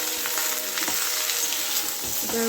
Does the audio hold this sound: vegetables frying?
yes